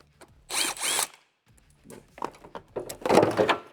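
Two short bursts of a power drill whirring while unscrewing a part on a BMW 4 Series G22, followed by clattering handling noises and a brief louder mechanical rattle, close by.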